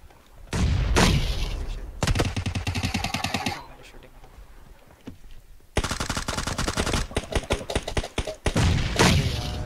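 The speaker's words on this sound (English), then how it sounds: "I throw a nade." Gunfire and blasts in PUBG, with long bursts of rapid automatic fire broken by heavy thumping booms, loud and close, stopping and starting several times.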